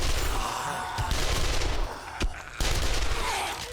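Sustained automatic gunfire emptying a full 60-round magazine in the survival game 7 Days to Die, a loud dense rattle of rapid shots with a brief pause near the end before it resumes.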